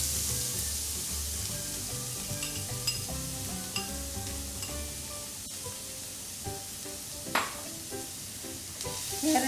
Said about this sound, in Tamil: இந்த நெய்லியே கேரட்டையும் சேர்த்துக்கலாம்.